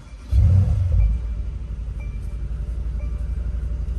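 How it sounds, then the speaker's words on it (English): Mercedes C63 AMG with the M177 4-liter twin-turbo V8 starting up, a loud deep rumbling flare that settles into a steady, throbbing low idle. "what will cheer you up immediately once you hop in this car is to go ahead and fire this thing up"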